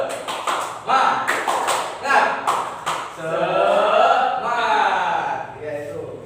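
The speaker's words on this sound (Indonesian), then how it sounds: "Kalau Bapak bilang tepuk semangat, 1, 2, 3, tepuk semangat" A classroom doing a rhythmic spirit clap, a quick series of sharp hand claps in a patterned beat, followed by children chanting together loudly.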